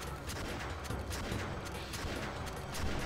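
Repeated shotgun blasts in the Doom mod Urban Slaughter, played in multiplayer, sounding as a dense, loud, continuous barrage of booming shots with mechanical clatter and no pauses.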